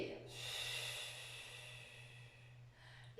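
A long, steady exhale during a back and core exercise session, a close breathy rush of air lasting a few seconds over a faint low hum, with no words spoken.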